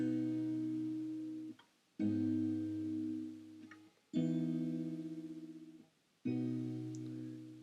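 Four guitar chords strummed one after another, each ringing out for about two seconds and fading before the next, played alone.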